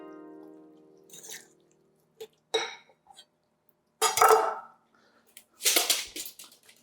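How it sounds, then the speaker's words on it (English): A wooden cutting board used for chopping gremolata is rinsed under running water in a kitchen, with short bursts of splashing, a few clinks and quiet gaps between. "We're just going to clean our cutting board off."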